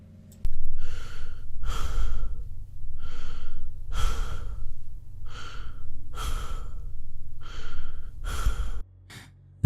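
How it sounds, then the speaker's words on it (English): Heavy breathing comes over a phone call, slow loud rhythmic breaths, about eight drawn in and out in a steady cycle, close and raspy with a faint line hum beneath. "I pulled a card, dialed a number, and was greeted with about 10 seconds of heavy breathing"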